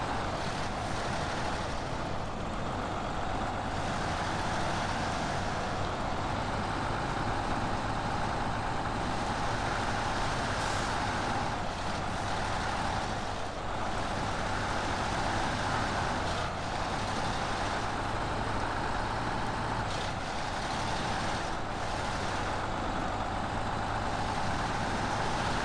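A Pac Lunx truck in SnowRunner grinds up a steep hill, its engine a continuous loud drone with heavy low rumble that stays steady throughout.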